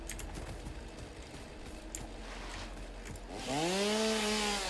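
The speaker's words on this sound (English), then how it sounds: "I can take a chainsaw to a tree or an area" A chainsaw cuts a tree in the video game Satisfactory. Soft clattering and movement sounds come first, then the saw revs up sharply into a loud, steady buzzing whine.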